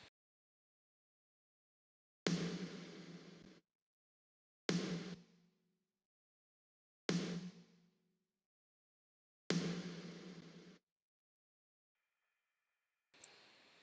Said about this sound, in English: And the snare is also one sample, compressed, cut out a little bit, and also same gate reverb.